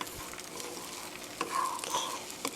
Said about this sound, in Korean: 자, 살살 저어서 스크램블 만들어주세요.